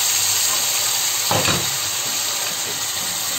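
Vinegar poured into a hot pan of paprika for Spanish pork-rib adobo, hitting with a sudden loud sizzling hiss that swells briefly then settles into steady frying crackle, no talk.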